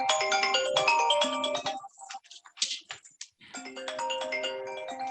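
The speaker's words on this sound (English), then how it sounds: "Ringtone." A phone ringtone plays a bright melodic electronic tune, pauses briefly amid a few clicks and fragments, then starts its melody again, clear and close.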